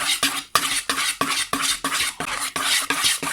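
A spoon or whisk stirs madeleine batter with butter in a bowl, making a brisk regular rhythm of about ten scraping, clinking strokes against the bowl, close and fairly loud with no talking.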